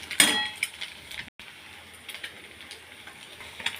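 An egg cracked into a pan with chopped onion and chilli fries with a faint, steady sizzle, and a sharp metallic clink and a few light utensil scrapes sound close by.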